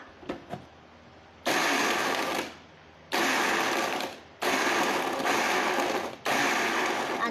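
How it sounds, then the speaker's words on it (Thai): A kitchen blender whirs in four loud, close bursts while blending a cocoa drink with ice, each pulse a few seconds long with short pauses between, after a few light knocks. "ใส่ทุกสิ่งอย่างเข้าไปด้วยกันแล้วเราก็จะมาใส่เครื่องปั่นกันเลย"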